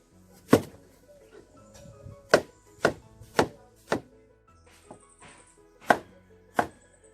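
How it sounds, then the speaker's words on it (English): A knife chops an onion on a cutting board in seven sharp, close thunks spaced unevenly. There is no talking. "next step, I will cut up the onion."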